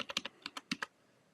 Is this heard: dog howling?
no